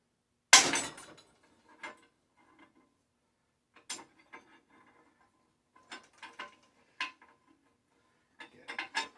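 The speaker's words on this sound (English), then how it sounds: "just hold this tool in place, whack it with his hammer." One loud metallic strike of a hammer on a bike tool held in place during bicycle teardown is followed by scattered lighter clinks and taps of tools, sharp and close, with quiet pauses between.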